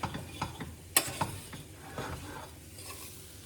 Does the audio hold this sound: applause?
no